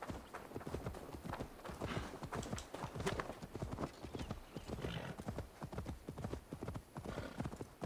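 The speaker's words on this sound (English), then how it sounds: "You can call my horse." Rapid, rhythmic hoofbeats of a trotting horse in Assassin's Creed Valhalla clatter steadily throughout, fairly close, with a faint whinny-like sound in the mix.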